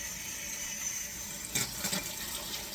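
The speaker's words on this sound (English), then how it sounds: "You can fill a sink up with cold water. You really can. And put the spinach in it, or put it in a big bowl and shake it." Water sloshes in a sink filled with cold water as fresh spinach is swished and rinsed, a steady running wash with a few louder splashes near the end.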